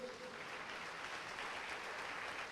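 A church congregation applauds in worship during a sermon, a continuous wash of clapping at fairly low level that holds steady without any voices standing out.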